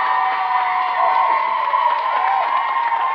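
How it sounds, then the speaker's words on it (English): A studio audience at a live Saturday morning kids' TV show cheers and applauds steadily, a dense wash of clapping and whoops holding for a few seconds without talk. "Give him a big round of applause, everybody."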